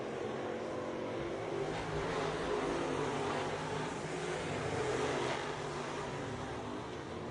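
The 36 Mafia race car roars down the backstretch at Southern Raceway, a loud continuous engine drone that holds steady throughout and swells slightly midway.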